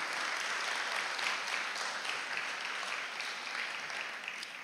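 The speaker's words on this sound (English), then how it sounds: "I think it's a good place to clap" A church congregation breaks into continuous applause, an even, dense sheet of many hands clapping that holds steady at moderate distance for several seconds without speech.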